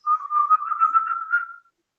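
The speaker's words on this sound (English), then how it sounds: "You hear the bird." A single bird gives a steady, warbling whistle for under two seconds, clear and fairly close, with nothing else around it.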